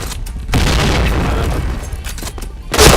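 A grenade in a video game shooter detonates with a loud, deep boom that rumbles on for about two seconds, then a second sharp blast bursts out near the end.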